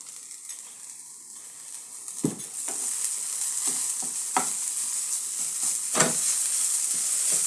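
Okra thoran with grated coconut is stir-fried in a pan, a steady sizzle broken by sharp scraping strokes of the spoon at irregular intervals.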